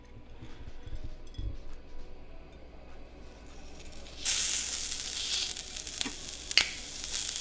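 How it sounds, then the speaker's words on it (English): An A5 Japanese Wagyu steak, greased with its own fat, hits a hot pan and erupts into a loud, steady sizzle that holds to the end, with a few faint clinks beforehand. "So for this steak, we're just searing it like 90 seconds per side."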